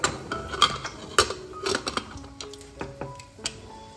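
A pressure cooker of boiling mutton with cardamom and bay leaf has its metal whistle set onto the lid, with a series of sharp, close metallic clinks and taps and no talking.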